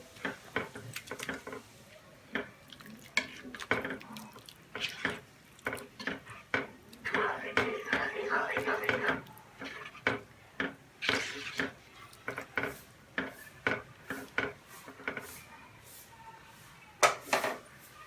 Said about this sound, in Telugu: రైస్ని ఒకసారి కలుపుకోవాలి.